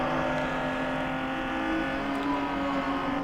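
A race car at Lime Rock Park holds full throttle uphill, its engine a loud, sustained high-revving drone with steady harmonic tone, close by and without talk.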